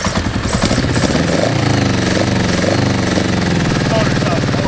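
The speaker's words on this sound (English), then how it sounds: "Motor sounds horrible." The engine of a 30-year-old Honda that was once flooded runs loud and rough, with a close, uneven chugging idle that pulses and surges throughout.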